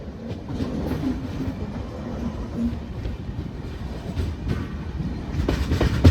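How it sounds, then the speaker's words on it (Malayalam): The Jan Shatabdi Express, an LHB train, rolls into Kollam railway station, a loud, steady rumble of wheels and carriages with faint clatter running throughout. "കൃത്യം 6:55 തന്നെ നമ്മുടെ ജനശതാബ്ദി എക്സ്പ്രസിന്റെ നമ്മുടെ കൊല്ലം റെയിൽവേ സ്റ്റേഷൻ രണ്ടാമത്തെ പ്ലാറ്റ്ഫോമിലേക്ക് കയറിക്കൊണ്ടിരിക്കുക കേട്ടോ"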